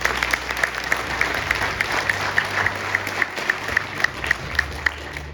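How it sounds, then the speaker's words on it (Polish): Audience applause at a volunteering awards gala in Kołobrzeg, a steady dense round of clapping from a crowd with a low hum underneath, sustained for several seconds. "Brawa"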